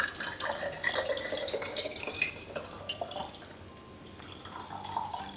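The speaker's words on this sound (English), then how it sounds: "you have to go ahead and filter it, like drain the water out" Water pours and trickles through a strainer with splashing and faint dripping, fairly quiet and close, with no talking.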